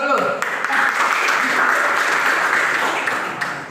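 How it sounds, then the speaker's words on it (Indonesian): A classroom of students bursts into sustained, dense applause during a teaching practice lesson, the clapping loud and steady throughout with some voices mixed in. "Aplaus dulu."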